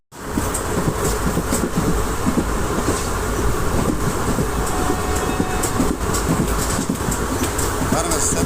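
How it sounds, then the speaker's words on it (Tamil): A fast train running between Tiruvannamalai and Vellore, with a loud, constant roar and rattle of carriages and wheels on the rails from the start and a faint rhythmic clatter throughout. "ட்ரெயின் ரொம்பவே ஃபாஸ்ட்டாக போகுது"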